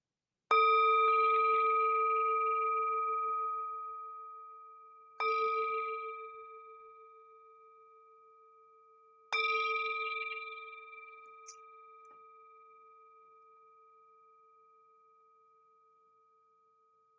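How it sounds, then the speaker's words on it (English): A meditation bell is struck three times at slow, spaced intervals, each stroke ringing out clearly with a bright tone and a long, pure decay that lingers until the next strike, with no voices present. "The sound of this beautiful bell returns us to our true home"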